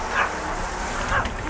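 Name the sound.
dog whimpering to come inside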